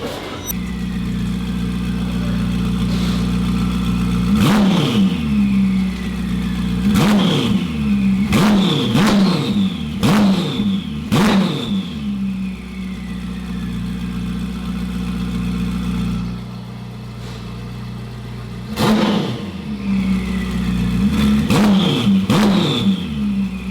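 A Ferrari SF90 fitted with a Rift exhaust system idles with a deep, steady rumble and then roars through a series of sharp, loud revs in repeated clusters, heard up close.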